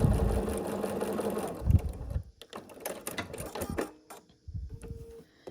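Sewing machine stitching a stitch-and-flip corner on an evergreen tree quilt block, running steadily for about two seconds at close range and then breaking into short bursts and clicks.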